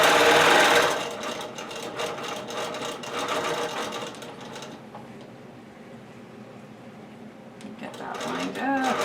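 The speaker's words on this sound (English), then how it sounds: "So I'm doing a little back and forth stitching and pausing." A sewing machine runs in short back-and-forth bursts of stitching with brief pauses, doing ruler work over a quilt seam allowance; the mechanical whirring is steady and close, with a quieter stretch in the middle and a faint voice.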